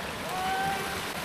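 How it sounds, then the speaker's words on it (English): Water flows at a small waterfall on a rough mountain pass, a steady rushing wash heard close and fairly even through a brief moment, with no talk. "Crystal clear water that is flowing here."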